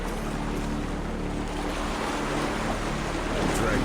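Ocean waves and surf churn around a person drowning in the sea, a steady, fairly loud broadband roar with wind noise that barely changes across the whole stretch.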